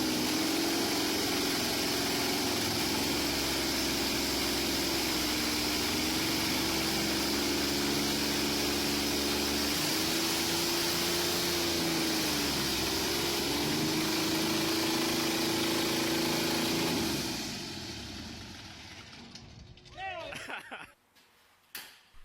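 A Continental TSIO-520R aircraft piston engine idles with a steady, loud low drone and slight periodic swells for most of the run, then cuts off and winds down near the end, leaving a few faint clunks and rattles.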